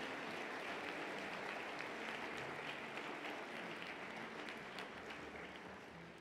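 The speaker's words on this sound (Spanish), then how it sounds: "Vamos a brindarle un fuerte aplauso a estos distinguidos funcionarios de nuestra Casa de Estudios." Sustained audience applause at a university anniversary ceremony honoring staff, a dense even wash of clapping that stays steady, then fades slightly, heard from a distance at low level.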